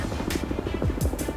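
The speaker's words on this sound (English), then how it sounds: "When these helicopters are landing on ridges" A helicopter lands on a snowy mountain ridge in Alaska. Its rotor beats in a loud, steady, rapid chop close by, continuing without a break for a second and a half.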